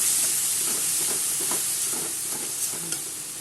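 Kashmiri chili powder, turmeric, cumin powder and sugar sautéed in a pan sizzle continuously up close, with repeated scraping stirs of a spoon breaking through the hiss.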